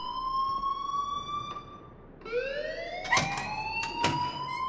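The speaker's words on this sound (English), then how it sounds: "please turn off that alarm since that's your job" A wailing electronic alarm inside the video game Life is Strange sweeps upward in pitch with sharp harmonic tones, loud and continuous, with a couple of brief clicks partway through.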